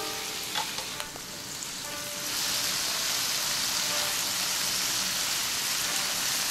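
Tofu pieces sizzle steadily in a hot pan with soy sauce, a dense crackling hiss that swells louder after a couple of seconds and holds, with a few clinks at the start and no talking.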